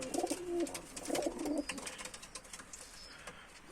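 Soft, low cooing of Mardin tumbler pigeons, repeated in short bursts close by, with faint fluttering and shuffling in the background.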